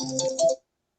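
A mobile phone ringtone chimes briefly nearby, a short bright melodic burst lasting about half a second before cutting off into silence.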